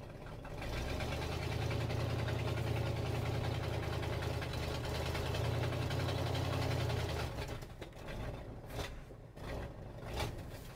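The engine of a 1968 Ford F350 Bumpside in granny gear drones steadily and loudly for about seven seconds, then falters and sputters down, leaving uneven knocks and clatter.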